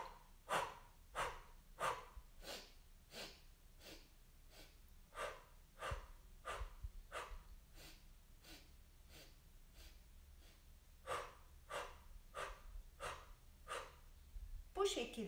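Rhythmic breathing during a ten-breath meditation exercise, in through the nose and out through the mouth with a soft sound, a steady series of about twenty close, faint breaths.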